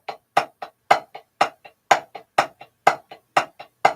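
Double stroke roll on a drum, accented on the first note of each pair. A loud stroke followed by a softer one repeats steadily, close and dry, with no talking.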